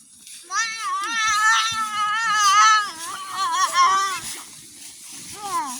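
Goats in a barn give loud, wavering bleats that overlap one another, with a few higher cries standing out near the end.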